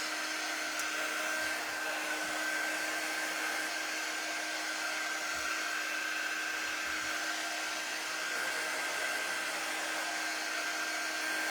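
A hair dryer blows on craft pieces for a faux vintage Valentine chocolate box, a continuous steady roar of fan and rushing air with a fixed whine, close and even throughout, with no voices.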